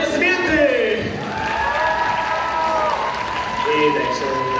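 Audience applause at an awards ceremony, steady clapping and crowd cheering throughout, with loud voices calling and whooping over it.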